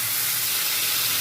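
Water poured into a hot pan where whole dried red chillies and nigella seeds are frying for a jackfruit curry, giving a steady, loud, broadband hiss and sizzle that holds evenly throughout without a break.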